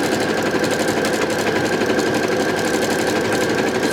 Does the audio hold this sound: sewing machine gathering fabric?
yes